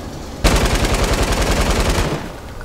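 Rapid automatic gunfire in Fortnite, a loud sustained burst of rounds lasting about a second and a half, firing at a wooden structure to destroy it before cutting off.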